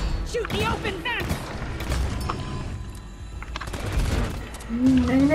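Weapons fire rattles through a Deep Rock Galactic mission in rapid, repeated bursts with thuds and mechanical clatter, while players shout to each other over the shooting.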